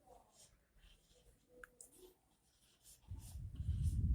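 Someone writes an answer by hand: faint scratchy strokes of the writing implement sit in a quiet room, followed by a rising low rumble toward the end.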